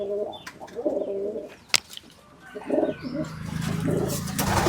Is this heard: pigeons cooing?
yes